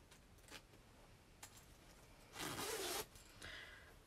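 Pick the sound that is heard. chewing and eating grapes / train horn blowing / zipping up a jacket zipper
zipping up a jacket zipper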